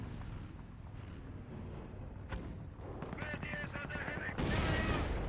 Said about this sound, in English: Enemy troops are firing on us.